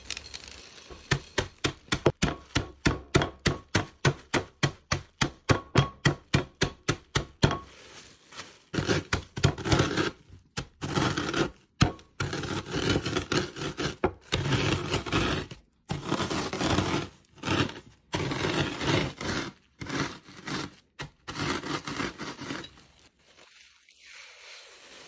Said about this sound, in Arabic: هنا غادي ناخذ اي نوع ديال كورنفليكس عندكم في الدار وغادي نحاولوا نطحنوه شويه